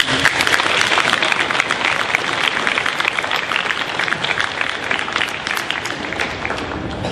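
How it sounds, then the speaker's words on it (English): Sustained, dense applause from an audience at an 8th grade celebration, steady and loud throughout with no break. "Have a round of applause."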